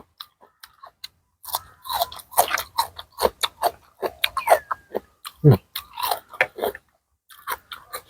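Crunchy food, sai nang crispy fish eaten with spicy pounded rice noodles, is chewed noisily up close, with a rapid, uneven series of crisp bites and crunches and brief pauses between.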